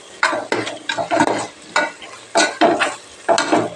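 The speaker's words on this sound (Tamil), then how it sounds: "நல்லா ஃப்ரை பண்ணணும். இன்னும் கொஞ்சம் ஃப்ரை ஆகணும்." Tomatoes cooked with turmeric and sambar powder are fried and stirred in a pan, with a series of sharp scraping spatula strokes over a light sizzle, close up and with no talking.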